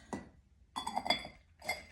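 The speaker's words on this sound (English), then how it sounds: "So these are stacking tapas dishes." Ceramic stacking tapas dishes, fresh from a kiln, clink together in three bright, close ringing knocks, with short quiet gaps between them.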